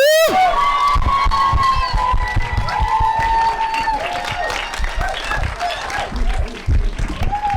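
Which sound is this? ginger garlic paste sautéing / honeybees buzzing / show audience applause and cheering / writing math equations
show audience applause and cheering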